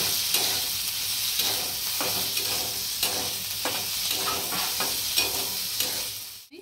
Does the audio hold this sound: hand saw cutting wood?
no